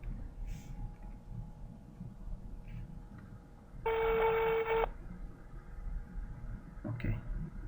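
A single telephone ring tone plays for about a second after a number is dialed into a hotel phone system, standing out clearly over a quiet background hum.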